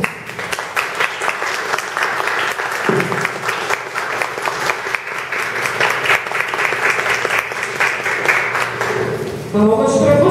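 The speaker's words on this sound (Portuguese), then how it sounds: "Palmas para vocês que resistiram" Lecture audience at a poetry talk breaks into sustained, dense applause that fills the room steadily for about ten seconds, with a voice speaking over it near the end.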